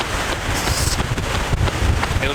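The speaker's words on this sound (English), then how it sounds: "Very windy." Strong wind buffets the microphone during an outdoor marathon training run, a continuous rough roar that rises and falls in gusts.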